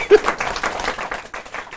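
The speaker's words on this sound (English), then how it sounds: "Wow, applause." Audience applause at an evening talk in a hackerspace, a short burst of scattered, uneven clapping that rises and fades, with some crowd murmur mixed in.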